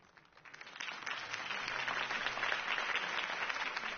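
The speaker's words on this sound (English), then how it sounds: "If only Mr. Wayne, my campaign's largest backer, could have heard that applause" Crowd applause rises after a political campaign speech in the Batman Telltale video game, a dense, steady wash of clapping that swells over the first second and holds at an even level throughout.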